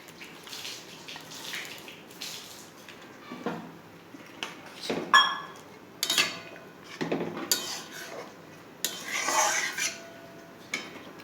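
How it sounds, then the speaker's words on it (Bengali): Fish pieces go into a pot for fish and potato curry that already holds hot water, bringing a string of clinks, metal scrapes and watery splashes, close by with no voices. "এবার আমি মাছগুলো দিয়ে দেব।"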